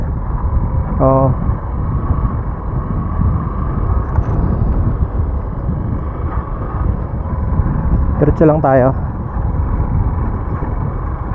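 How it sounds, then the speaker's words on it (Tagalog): Strong wind at a roadworks site in Candelaria, Quezon, buffets the microphone with a constant loud rumble throughout, while someone speaks briefly over it. "Wala ayaw tayong tantanan ng hangin kaya wala, hindi tayo makapagpalipad ng drone."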